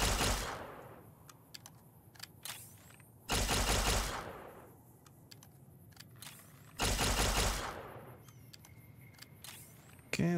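Compliance Regulator laser pistol in Fallout: New Vegas, a blue-beam energy weapon, fired in two loud, sharp bursts a few seconds apart, each fading out, with small clicks and handling noises in between and no talking.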